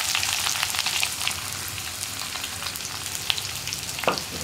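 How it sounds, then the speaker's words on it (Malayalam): Sliced onion rings frying in hot oil with dried chillies, a steady close sizzle and crackle with a few sharper pops, no voices. "ഈ ഉള്ളിയും കൂടി ചേർത്ത് കൊടുക്കാം."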